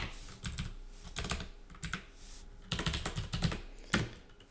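Fingers type code on a computer keyboard in quick clattering bursts separated by short pauses, the key clicks close and crisp with no voices.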